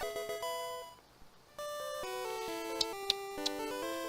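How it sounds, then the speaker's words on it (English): A tinkling electronic chime melody from the Pokemon Blue game's Metronome move: a run of bright stepped chiptune tones, a brief pause, then more chiming notes with a few sharp high pings near the end, clear and alone. "That's the sound of a metronome."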